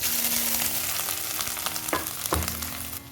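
Dried coconut, cashews and peanuts fry in hot oil, giving a steady close sizzle with brief scraping stirs near the end.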